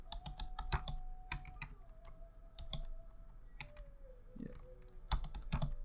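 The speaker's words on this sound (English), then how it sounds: "I could put here, I'm gonna put YouTube." Typing on a computer keyboard while writing C++ code, quick bursts of light close key clicks in an uneven rhythm, faint and alone, with a quiet electronic tone lingering beneath.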